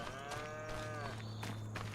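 Several cattle in Farming Simulator 25 moo in a long, drawn-out low call over a steady hum, with another moo starting near the end; no talking.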